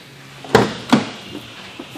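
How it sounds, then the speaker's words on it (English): Doors of a 2013 Dodge Journey SXT crossover, two short thuds about half a second apart, close and moderately loud against a quiet background, with no talking. "Doors open up almost a full 45 degrees, making it easy to get in and out."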